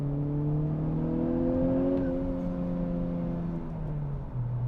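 A 2021 Honda Civic Type R engine drones steadily with a humming exhaust note, its pitch rising slightly and then easing off as it cruises.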